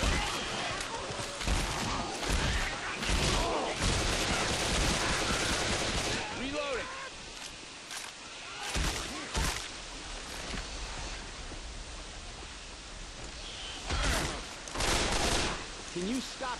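Dense bursts of gunfire in Left 4 Dead 2 in a flooded area during Hard Rain, loud volleys and rapid shots repeating throughout with short pauses, talk from players underneath.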